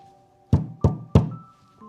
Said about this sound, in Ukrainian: Вовк миттю добіг до бабусиного будиночку і постукав у двері.